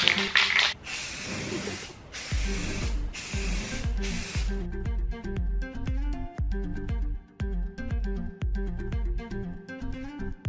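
Aerosol spray primer hisses in several sharp, loud bursts over the first few seconds while coating a test card for an automotive chipped-paint touch-up. The bursts then give way to background music.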